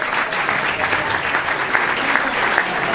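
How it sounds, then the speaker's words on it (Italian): Applause from the audience at a carnival festival in Ceggia, Italy: a dense, continuous round of many hands clapping, steady and fairly loud for three seconds. "a cui farei un applauso"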